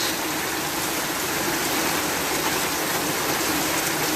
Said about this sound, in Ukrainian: То вже періще дощ.